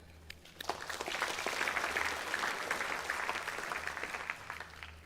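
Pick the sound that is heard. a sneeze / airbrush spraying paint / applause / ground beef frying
applause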